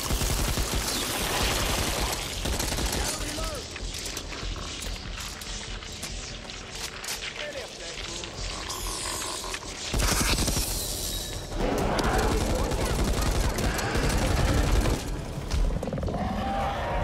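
Rapid gunfire and chaotic combat effects in the zombie shooter game Back 4 Blood, bursts of shots and mechanical clatter layered over a dense, roaring background, growing louder in the second half.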